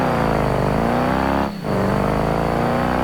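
A turbocharged beater truck with a ZF5 manual gearbox, tuned to blow black smoke, accelerating down a track on its first pass, engine droning loud and steady with a brief dip mid-run before pulling on again.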